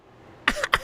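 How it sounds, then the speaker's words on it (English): A person clears their throat twice in quick, rough bursts close to the listener, after a brief near-silence. "you're probably going to hear me clearing my throat a lot today"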